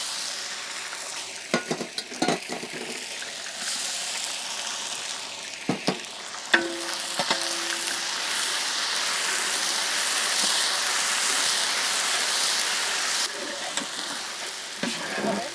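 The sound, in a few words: ginger garlic paste frying in oil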